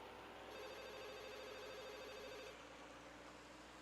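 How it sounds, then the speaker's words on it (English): Soft electronic ringing from a mobile phone in the visual novel Katawa Shoujo, a steady warbling tone that plays for about two seconds over a hushed background hum, quiet and alone without talk. "A familiar soft ringing begins to sound from Lily's side."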